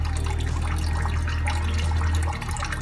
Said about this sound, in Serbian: Sačekat ću još malo da isteče voda.